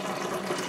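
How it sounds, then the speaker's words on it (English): Steady rushing tap water pouring into a Ramtons 10 kg single-tub washing machine, a continuous even hiss of filling liquid with no pauses. "filling the washing machine with water."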